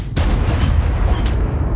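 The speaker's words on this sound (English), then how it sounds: "can we chill out with the explosions, please?" Explosions in the survival game Ark: Survival Evolved, a dense, loud rumbling burst of booming blasts with repeated sharp cracks over nearly two seconds, heard alone without talk.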